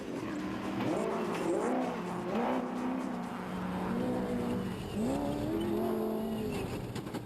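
A BMW car's engine roars continuously at close range during a race at the Magalies 400, rising and falling in pitch as it revs through gear changes, with no talk.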